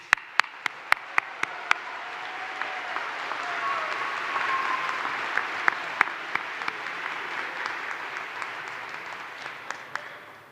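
Sustained applause rolls through the crowd at a Penn State Abington spring commencement ceremony, a broad wash of clapping punctuated by sharp individual claps, loud and close, steady for about ten seconds.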